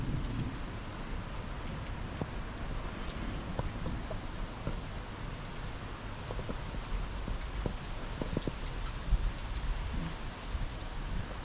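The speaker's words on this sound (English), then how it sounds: "I like to listen to it, thunder and rain and stuff" Steady rain pours down during a severe storm in Pensacola, Florida, a dense continuous hiss with scattered close drops and taps and low rumbling wind underneath, with no one talking.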